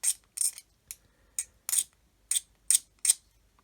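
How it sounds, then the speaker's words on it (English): A plastic model kit base for a 1/32 Kitty Hawk OV-10A/C Bronco being scraped with a blade, heard as eight short, crisp scraping strokes in a quick, uneven rhythm, close and fairly quiet with silence between them. "We can scrape it"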